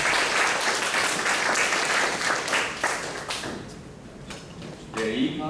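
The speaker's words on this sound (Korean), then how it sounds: "다 같이 힘차게 격려로 박수해 주시면 감사하겠습니다" A church congregation at a summer camp closing worship service claps together in sustained, dense applause that gradually thins and fades, with a voice briefly heard near the end.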